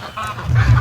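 A goose gives a loud, close honking call, rising into a strong nasal honk in the final half second.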